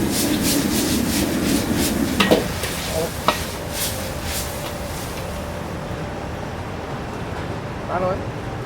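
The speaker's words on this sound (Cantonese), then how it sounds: "咁我哋不斷咁翻炒" Beef stir-fried Hunan style in a wok with red oil and dark soy sauce, a close sizzle with rhythmic spatula scraping and tossing, a couple of sharp metal knocks, and a voice speaking over part of it.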